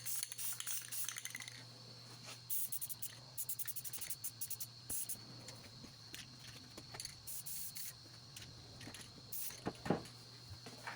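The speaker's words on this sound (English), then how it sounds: "we got to shake the paint" Aerosol spray paint can shaken in a garage paint booth, its rattle ball clacking in quick, uneven bursts of sharp metallic clicks over a steady low hum.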